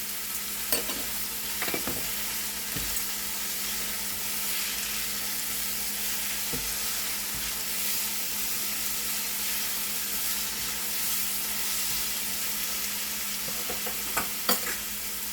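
Spices including chili flakes and black pepper frying in a pan for a mixed vegetable paratha filling, a steady close sizzle with occasional stirring clinks and scrapes throughout.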